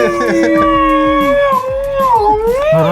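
A person imitates a newborn puppy howling, a loud, close, wavering whine that rises and falls in one long drawn-out cry.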